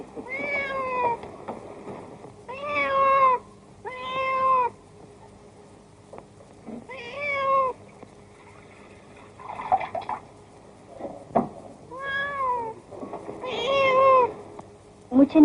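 A house cat meows repeatedly in a film scene, with several clear, drawn-out meows spaced a second or two apart, close and fairly loud, with faint background sounds between them.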